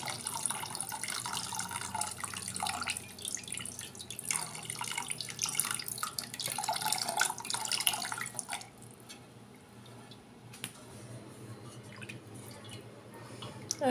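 Water pours steadily into a cooking pot for oat and vegetable soup, a close, continuous splashing and trickling stream that stops partway, leaving quieter kitchen room sound.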